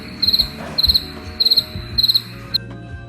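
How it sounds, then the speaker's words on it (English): A cricket chirps in steady pulses of four or five quick high trills, repeating about every half second, clear and close against a quiet background. "Crickets."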